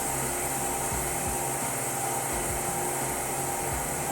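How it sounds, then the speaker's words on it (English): A freeze dryer's vacuum pump runs steadily while freeze drying grilled chicken, giving a loud, constant mechanical drone and hiss with an even low hum and no pauses. "Turn the vacuum pump back on."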